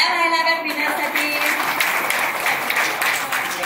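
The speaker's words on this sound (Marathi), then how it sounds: "एकदा टाळ्या व्हायला लागत विनयसाठी." Applause from the gathered women at a Haldi-Kunku ceremony held by a clothing shop, steady dense clapping throughout, close and fairly loud.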